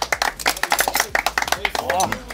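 A few people clap for some boys in a kitchen, with sharp, fairly even hand claps running through the whole stretch and cheerful voices talking over them.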